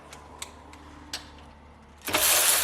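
A cordless 3/8 inch ratchet clicks a few times, then its motor whirs loudly as it breaks loose an M6 bolt.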